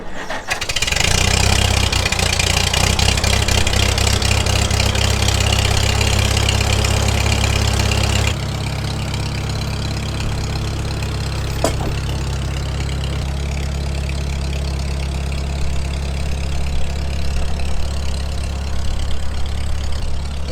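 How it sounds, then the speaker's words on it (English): A narrow front end tractor engine runs loud and close as it backs down two trailer ramps, with a heavy, steady low rumble throughout that drops to a quieter idle partway through, plus a brief clank. "That's how you unload a narrow front end tractor with only 2 ramps."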